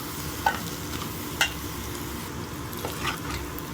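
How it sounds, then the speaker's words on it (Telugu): Cooked rice is stirred into egg in a frying pan for egg fried rice. A steady soft sizzle runs throughout, with a couple of light scrapes and clinks from the stirring. "ఇప్పుడు ఇందులో రైస్ వేసేసుకుందాము."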